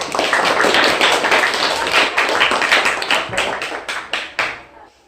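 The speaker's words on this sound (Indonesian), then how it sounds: "Tepuk tangan dulu." Students in a primary school classroom clap together in a dense burst of close handclaps that thins into scattered, separate claps and fades out.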